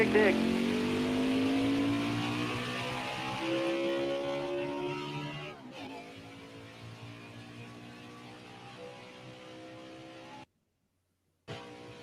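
A number 95 Toyota race car roars through a virtual hot lap in a racing video game, its engine note climbing and shifting steadily, with a voice talking over it before a brief cut to silence.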